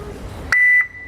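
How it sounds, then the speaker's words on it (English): A Pollak heavy-duty back-up alarm gives a single loud, piercing electronic beep, held steady for about a quarter second, then cut off over a quiet background. "Today we're going to be taking a look at the Pollak Back Up Alarm."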